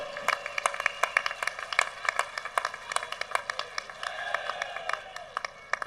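Audience applause for Maharana Pratap at a Maharana Pratap Jayanti stage event, a steady patter of many hands clapping through the whole stretch, fairly close and moderately loud, with no talk over it.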